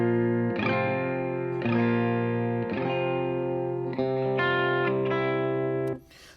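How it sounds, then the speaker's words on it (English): A heavily compressed Telecaster electric guitar through spring reverb plays a series of sustained strummed chords, each ringing out evenly before the next, with a short reverb tail at the end. "it's a heavily compressed Telecaster sound with some spring reverb"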